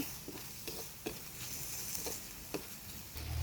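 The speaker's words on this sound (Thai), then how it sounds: "ลวนหมูก็ กะปลาร้า ให้มีกลิ่นหอม" Pork stir-fried with fermented fish (pla ra) in a pan while preparing a Thai pumpkin curry: a quiet, steady sizzle with occasional sharp scrapes and ticks of the utensil against the pan, no talking.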